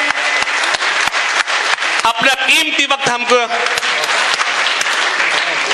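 Loud applause from a mushaira audience in Firozabad welcoming an arriving guest, a dense burst of clapping that runs throughout while someone speaks over it.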